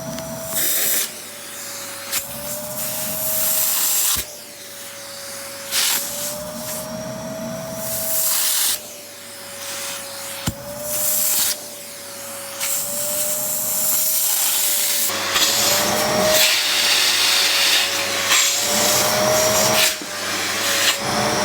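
A vacuum cleaner runs close up while sucking over a shoe during a wardrobe clear-out, a steady whine with a fixed tone and repeated rough bursts and scrapes as the nozzle moves across the shoe.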